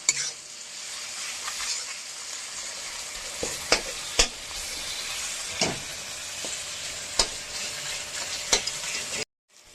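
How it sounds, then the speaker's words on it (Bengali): Tomato frying with onion and a little salt in a pan, a bright steady sizzle with repeated sharp scrapes and clinks of a spatula stirring, close and loud, ending abruptly, no voices. "টমেটোটা তাহলে ভেজে যাবে তাড়াতাড়ি"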